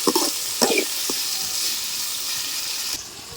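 Ground masala sizzles in a pan of tomatoes cooked down with turmeric and salt for stuffed brinjal curry, a steady moderate hiss broken by a few scraping stirs near the start.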